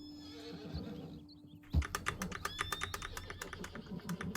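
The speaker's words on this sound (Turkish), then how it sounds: "Mustang bu at." A Mustang horse in Red Dead Redemption 2 with a fantasy color mod gives a neigh, followed by a rapid run of clicking keyboard-like taps, all fairly quiet.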